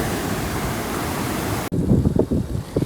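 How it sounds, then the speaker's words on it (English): Roaring broadband wind noise buffets the microphone during a wet, windy trail run on Dartmoor, then cuts abruptly to a duller, gusty rush with irregular thumps, loud and close. "It's atrociously wet and windy"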